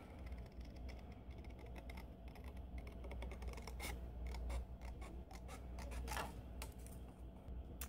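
Scissors trimming card stock for a handmade card, a run of small crisp snips and scratchy cuts, close but quiet, with a faint steady room hum beneath and no talking.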